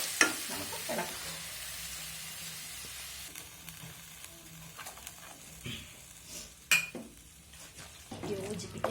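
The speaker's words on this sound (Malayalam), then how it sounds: "ഇനി ഇതിലേക്ക് ബാക്കി എല്ലാം കൂടി ചേർത്ത് നമുക്ക് ഇളക്കാം." Curd rice being stirred in a pan with onion and coriander, a soft scraping and sizzling texture with a few utensil clinks against the pan, quiet and close, no talking.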